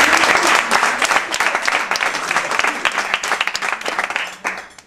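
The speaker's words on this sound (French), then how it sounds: "Applaudissements." Loud, lively applause from a party crowd celebrating a birthday, many hands clapping densely and close for several seconds before tapering off at the end.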